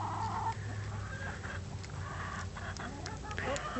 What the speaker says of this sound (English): Here comes another happy chicken.